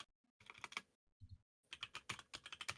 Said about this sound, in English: I can hear you fucking typing a call out post.